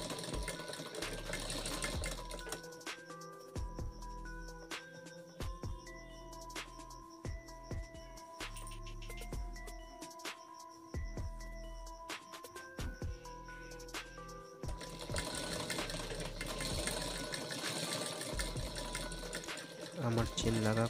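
A sewing machine stitches a handle onto a chain bag in bursts of rapid mechanical whirring, stopping and starting repeatedly, close and fairly loud, with a voice speaking at times.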